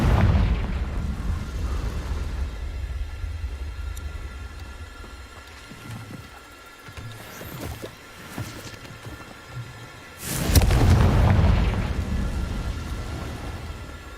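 Confringo spell blasts go off in Hogwarts Legacy, a booming burst at the start, scattered thuds and impacts in the middle, then a second loud explosive blast with rumbling decay.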